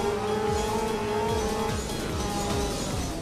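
Racing motorbike engine from a MotoGP video game drones loudly and continuously, its pitch rising and falling as the bike brakes and accelerates through repeated gear shifts.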